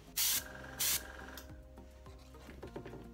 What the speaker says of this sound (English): Make sure you always do a test fire of the gun before you go live with it